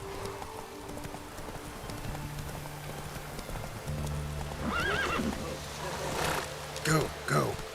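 A horse in The Witcher 3: Wild Hunt (Hearts of Stone DLC) clip-clops along, then gallops faster and lets out two sharp whinnies near the end, with someone talking over the hoofbeats.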